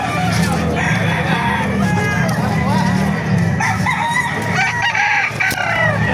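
Roosters crow again and again amid clucking fowl at a busy chicken market in Baliuag, with overlapping calls near and farther off over a constant crowd murmur.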